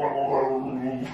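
A pet dog sounds off indoors at the front door, a close, continuous 1.2-second burst of barking and whimpering vocal sound with no talking over it.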